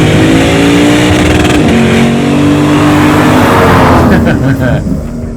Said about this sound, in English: You're buying a naturally aspirated V8. That's what you're buying. And that sound.